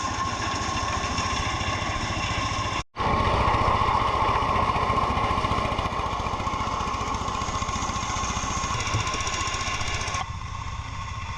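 A big engine powering a corn processing machine on a farm in Vietnam runs steadily and loudly with a constant droning rumble, briefly cutting out for a split second early on before carrying on without change.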